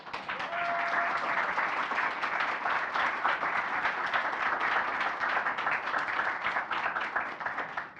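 An audience in a room applauds a speaker after her talk on workplace culture, dense continuous clapping that holds steady and loud throughout.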